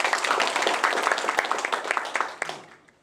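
Audience clapping at a residents' forum in Yangju, a dense patter of many hands that fades out near the end, with no one speaking.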